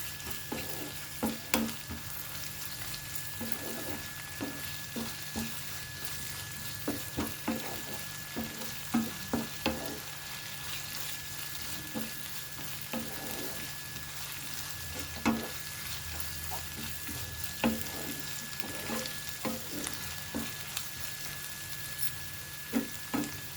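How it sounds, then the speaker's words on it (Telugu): A green gram, tomato and chilli curry fries in a pan with a soft continuous sizzle, punctuated by frequent scraping stirs and light clicks of a spoon, close and fairly quiet, no talking. "పచ్చివాసన పోయే వరకు వేగించుకోవాలి."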